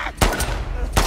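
Gunfire in The Last of Us Part 2 video game: two loud, sharp shots about three quarters of a second apart, heard close and alone.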